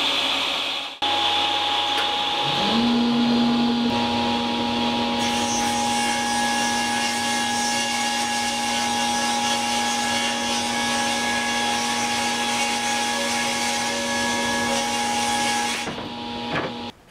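A table saw spinning up at 1200 RPM once its power and confirm buttons are pressed in a garage workshop, a steady loud motor whine rising quickly and holding level for about fifteen seconds before cutting off.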